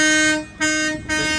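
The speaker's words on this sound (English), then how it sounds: "There's the train horns for you guys." A $30 Amazon train horn on a truck blasts in three loud, sustained chord-like blows separated by two brief gaps, close and steady with no talk.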